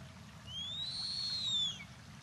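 A single drawn-out, rising then falling hissing wail from a juvenile fish owl begging for food, fairly clear over low background rumble.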